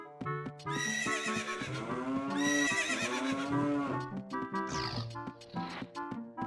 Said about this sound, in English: They put the horses and the cows in stalls.